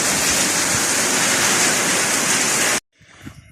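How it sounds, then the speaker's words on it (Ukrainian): Dense, steady roar of heavy rain pouring down, loud and continuous, then cutting off abruptly into near silence with faint movement. "Неймовірна злива"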